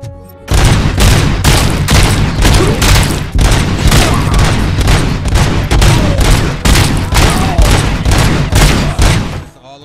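Loud, sustained automatic gunfire from RoboCop: Rogue City on PS5, dense rapid bursts with heavy low boom filling nearly the whole stretch after a brief quiet start.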